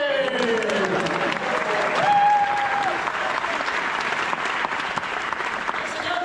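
A JapanFest comedy audience gives a full, sustained round of applause, a thick, even wash of clapping that holds steady throughout, with a brief tone rising above it partway through.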